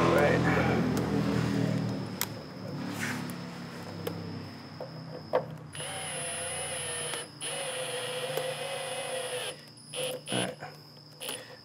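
A power driver sets screws into the flexible plastic of an M Sport front lip on a 2014-2020 BMW 4 Series, with a steady whirring whine in sustained runs broken by short pauses, close up.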